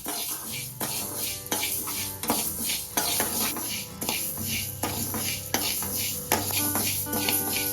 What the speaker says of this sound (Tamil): இதுல நான் கருப்பு உடைச்ச உளுந்து சேர்த்துக்கிறேன்